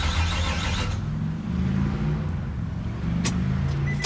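A 2005 Nissan Altima engine cranks steadily without catching, a continuous near rumble of the starter turning the engine over with no firing, sharp clicks near the end.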